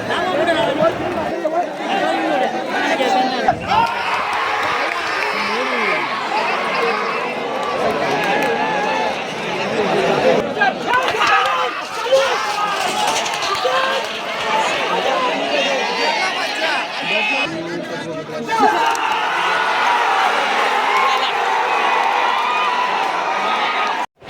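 A large outdoor crowd at a bullock cart race mills and chatters in a steady, dense babble with occasional shouts and whoops, loud and close throughout, with people talking nearby.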